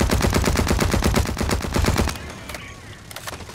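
Rapid bursts of automatic gunfire in the shooter game Blacklight: Retribution, a loud, steady rattling stream for about two seconds, then scattered fainter shots and battle noise.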